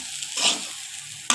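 Crispy fried potatoes for alu bhaji are stirred in a pan, giving a loud, close sizzle. Brief scraping bursts come from the spatula, with a sharp knock at the end.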